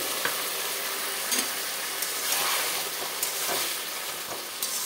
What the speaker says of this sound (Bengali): এভাবে একটু কষিয়ে নিয়ে অল্প জল দিয়ে ঢাকা দিয়ে রাখবো।